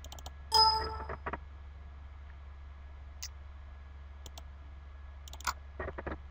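Several sharp mouse clicks open a folder on a Windows 7 computer, a quick cluster near the start, a lone click midway, and another burst toward the end, all crisp against a quiet room with a low hum.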